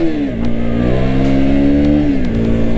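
A powerful, lightweight motorcycle engine revs up close, its pitch climbing and holding high, then dropping away near the end, loud and continuous with no voices.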